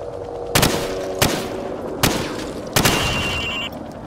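Four loud rifle shots at practice targets in the shooter Call of Duty 4: Modern Warfare, spaced evenly about a second apart, each with a short ringing tail, no voices.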